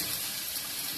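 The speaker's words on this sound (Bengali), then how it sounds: "দিয়ে দিচ্ছি জল।" Water pours into a cooking pot in a steady, close rush of splashing hiss that lasts the whole brief moment without a break.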